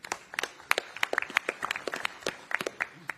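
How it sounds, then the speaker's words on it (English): Applause at a boxing press conference for a rematch, a scattered round of claps at moderate distance, irregular and thinning toward the end, with no voices over it. "Can we please get a round of applause for our brilliant MCs today?"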